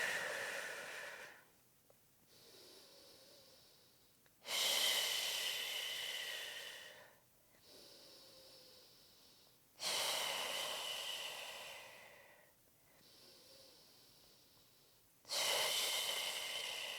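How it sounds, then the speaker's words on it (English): Slow, deep breathing during a pelvic floor stretch for pregnancy: long audible inhales and exhales alternate in a steady rhythm, close and fairly soft, with quiet gaps between breaths and no talk. "continue through this breathing style for about 15 more breaths"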